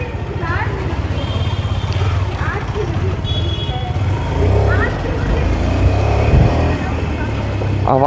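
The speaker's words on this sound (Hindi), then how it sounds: "now we are going to ride this all new Duke 250." A 2022 KTM Duke 250 motorcycle runs steadily while being ridden, its engine note close and fairly even, mostly under someone talking throughout.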